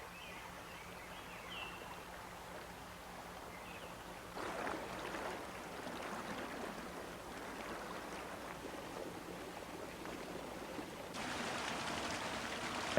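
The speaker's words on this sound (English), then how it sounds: "streams wandering through the woodlands on their way to the Pacific" A woodland stream flows through lush Big Sur forest toward the Pacific, a steady broadband wash of moving water that thickens partway through and brightens further near the end, with no voices.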